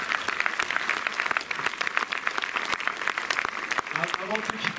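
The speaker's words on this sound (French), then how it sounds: "Je pense qu'on peut les applaudir." A festival audience in Montreuil claps steadily after a film screening, a dense, even patter of many hands with a few voices mixed in.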